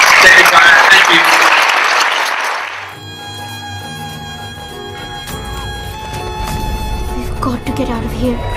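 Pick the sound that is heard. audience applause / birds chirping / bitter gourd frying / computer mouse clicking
audience applause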